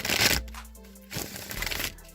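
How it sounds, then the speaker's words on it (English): Tarot cards are given a brief riffle shuffle at close range, two short papery bursts separated by a quieter pause. "one more shuffle"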